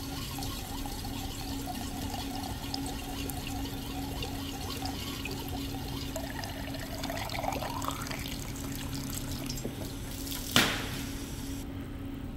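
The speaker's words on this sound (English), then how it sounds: "You're going to add water until the water comes out of the top." Water steadily fills a Badger 2.5 gallon water fire extinguisher through its top, a constant hollow gurgling pour with a rising tone as the vessel fills and a sharp clank near the end.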